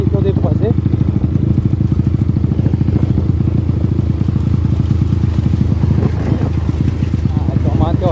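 Honda Titan motorcycle with a new engine and aftermarket exhaust, its loud steady engine note and rapid exhaust pulses running continuously close to the microphone, with some speech mixed in.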